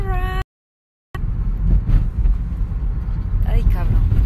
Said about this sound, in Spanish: cuando vengo en el carro el audio no está tan bueno